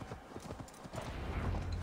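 Horse-like reindeer mount galloping in Assassin's Creed Valhalla, hooves clip-clopping in a quick steady rhythm close by, with no talk over it.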